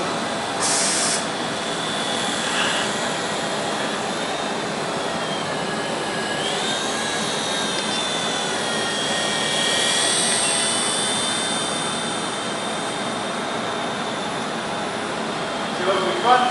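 A steady, whirring rotor drone from a helicopter flying indoors fills the space, close and fairly loud, with faint voices underneath and a brief clatter near the end.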